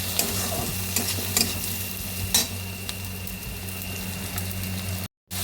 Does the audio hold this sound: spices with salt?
yes